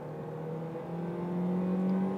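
A car pulls away from standstill in a 0-100 km/h acceleration run, its engine drone steadily rising in pitch and growing louder as it gains speed, heard from inside with no talking.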